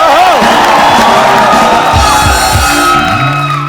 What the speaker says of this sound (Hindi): एक बार जोरदार तालियां हो जाए हाउसफुल की।